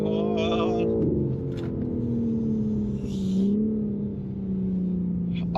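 BMW G82 M4 xDrive driving and sliding, a steady engine drone with shifting pitch and rising revs, close and continuous, with tire noise under it and brief background voices.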